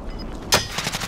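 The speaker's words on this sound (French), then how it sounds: "Ça tire du top." A single sharp gunshot from the video game Warzone cracks out mid-way, followed by a brief rattling tail and faint game ambience.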